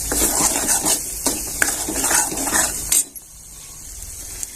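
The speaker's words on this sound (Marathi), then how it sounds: "इथे आपण थोडीशी हिरवी कोथिंबीर घालून घेतो छान परतून घेऊया" Masala with green coriander being sautéed and stirred in a pan, a steady sizzle with scraping spoon strokes and metallic clinks for about three seconds before it drops to a faint hiss.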